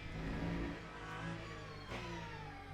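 Ferrari 499P hypercar engine in the racing sim Le Mans Ultimate, a steady, loud revving drone with layered harmonics that swells briefly near the end, heard alone with no talk.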